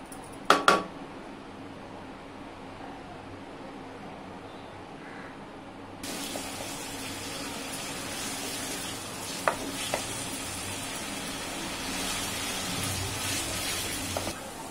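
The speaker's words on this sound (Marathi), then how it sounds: "त्याला आता आपण चांगलं परतवून शिजवून घेऊया। गॅस जरासा फास्ट करून हे चांगलं शिजवून घ्यायचं।" Dried bombil chutney with garlic paste is stir-fried in a pan over a raised flame. A steady, close sizzle jumps in loudness partway through, with occasional scrapes and clinks of a utensil against the pan.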